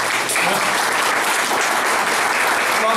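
Steady, dense audience applause fills the room at a live event in an esoteric center, loud and continuous for a few seconds with no talk over it.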